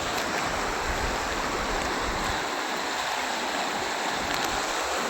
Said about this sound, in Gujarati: એ કાકુ પાણી આવી ગયું ને?